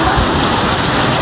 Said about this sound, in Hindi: क्या शदीद किस्म की भाई साहब बारिश हो रही है